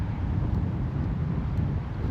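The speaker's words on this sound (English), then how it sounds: "But that wind's just relentless this morning, head on winds" Strong head-on wind buffeting the microphone during a lure fishing session, about 18 knots: a steady, loud, low rumbling roar that runs unbroken throughout with no pauses and no voices.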